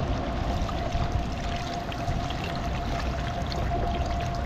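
A creek with a strong current flows in a steady, continuous rush of water, close by and with no voices over it.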